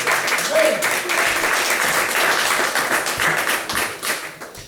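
A church congregation applauds during a Spanish-language sermon, dense clapping with sharp taps and a voice or two calling out faintly underneath, swelling briefly and then tapering toward the end.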